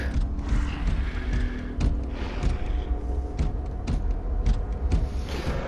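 A heavy metal door locks in the sci-fi game Space Hulk: Deathwing, with a steady grinding mechanical creak and rumble punctuated by repeated sharp clanks and ratcheting clicks.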